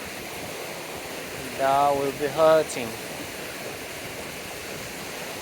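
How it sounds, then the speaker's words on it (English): Steady rushing of a river flowing over slippery rocks near waterfalls in Brecon Beacons National Park, Wales, a constant broadband wash throughout, with a short burst of close speech in the middle. "I need to cross this river."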